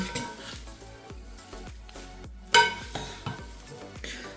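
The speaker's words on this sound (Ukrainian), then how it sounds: "Так, зараз треба добре розмішати." A utensil stirs a salad with feta in a bowl, making steady, rhythmic scraping and clinking strokes about twice a second, close and fairly quiet, with one sharper knock partway through.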